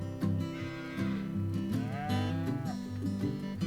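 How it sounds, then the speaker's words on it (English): A cow in a barn gives a series of deep, drawn-out moos, close and fairly clear, one call rising and bending in pitch near the middle, with no talking over it. "let's go check on the cows."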